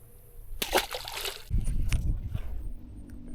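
A hooked fish, caught on a small crankbait in a grassy pool, splashes and thrashes at the surface, close by. A short burst of spray is followed by sloshing water.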